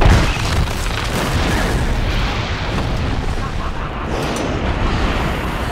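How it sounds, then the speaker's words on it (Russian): A miniature model of an interceptor ship blows up for a Pirates of the Caribbean film shoot, a loud booming burst that rolls into a sustained, rumbling roar. "эффектный взрыв макета перехватчика"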